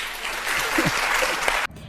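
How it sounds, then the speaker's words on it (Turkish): A small group claps in steady applause for a couple of seconds, moderately loud and close, before it cuts off abruptly near the end; a brief voice sounds briefly amid the clapping. "Bir moral alkış alabilir miyim?"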